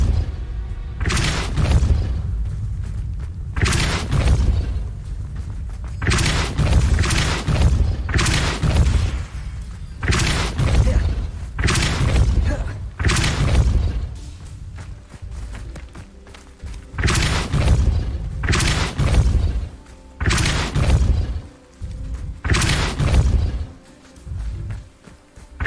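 Repeated Depulso spell impacts in Hogwarts Legacy land as heavy booming thuds with crackling bursts, about a dozen loud blasts spaced a second or two apart, each followed by a short rumbling tail.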